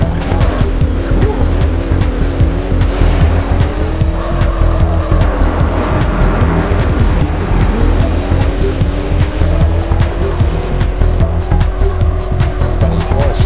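Racing car engines whine and tires squeal in the Hot Wheels Velocity X video game, a loud, continuous mix of revving and skidding with shifting pitch, and faint game sounds clicking over the top.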